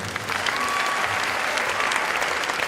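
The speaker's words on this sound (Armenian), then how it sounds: "շարունակենք ծափարել։" An audience applauding at an indoor event, dense continuous clapping from many hands that stays loud and even throughout.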